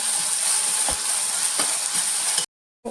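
Onion, garlic and ginger with curry leaves sauté in a hot pan for a fish-free fish curry, giving a steady close sizzle with a few stirring scrapes before the sound cuts out abruptly.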